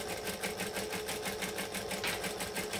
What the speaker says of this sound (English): And I'm stitching a 1/8 seam.